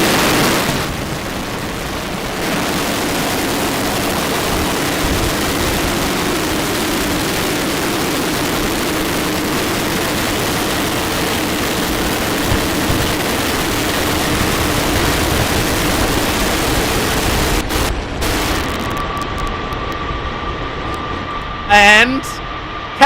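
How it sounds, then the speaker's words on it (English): SpaceX Starship Flight 8 Super Heavy booster engines roar through the landing burn as a steady, loud broadband rumble lasting most of the clip, then cutting out near the end, with crowd or commentary voices mixed in. "There are the engines. Landing burn ignition."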